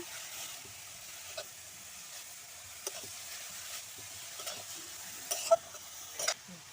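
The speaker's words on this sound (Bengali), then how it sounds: "এবার একটু নাড়াচাড়া করে মশলাগুলো সব একে একে দেব।" Mashed potato and spices being stirred in a pan for vegetable chops, with a soft continuous sizzle and scattered light scrapes of the spoon. Stirring grows busier toward the end, close but fairly quiet.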